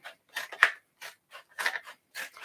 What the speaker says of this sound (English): We'll use scissors.